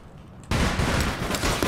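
Rapid automatic gunfire from an Entech weapon in APB Reloaded bursts in abruptly after a quiet moment and continues as a dense, loud, sustained volley.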